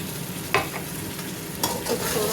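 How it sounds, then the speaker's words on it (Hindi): Whole spices frying in a hot pan for Pakistani chana rice make a steady, dense sizzle, with a couple of sharper scrapes as a spoon stirs them, close and continuous. "तो थोड़ा सा भुनेंगे"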